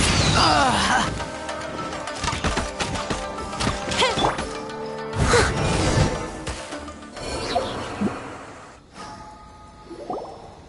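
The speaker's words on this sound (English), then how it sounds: "Here come the fireworks!" Fireworks attack in the Genshin Impact video game, set in Inazuma: a dense barrage of loud crackling blasts and whooshing bursts layered with game music and combat effects, filling the stretch with repeated impacts and swells.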